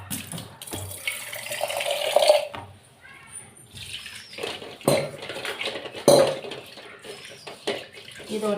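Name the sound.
washing a pan under running tap water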